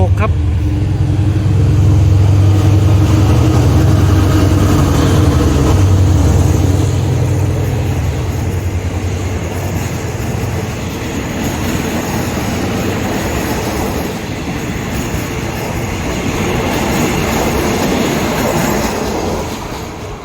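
A GEA diesel locomotive, number 4556, accelerating while hauling train 284 to Bangkok, Thailand: a loud, close engine drone with low throbbing gives way to steady wheel and carriage rumble as it passes.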